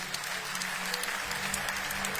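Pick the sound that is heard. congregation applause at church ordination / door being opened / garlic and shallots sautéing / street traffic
congregation applause at church ordination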